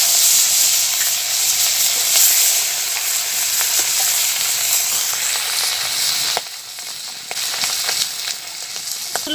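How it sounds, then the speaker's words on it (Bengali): Pond fish fry in hot oil with a loud, steady, close sizzle and crackle that eases slightly partway through as pieces shift in the pan. "বাকি মাছগুলোকেও আমি একইভাবে ভেজে নেব।"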